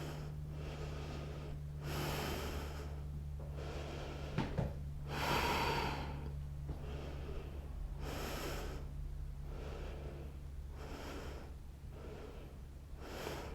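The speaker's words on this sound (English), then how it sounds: "Breathing." Slow, steady breathing during a yoga session for the shoulders: six or seven long inhale and exhale cycles, each a soft, airy rush that swells and fades, close and clear over a low steady hum, with no talk.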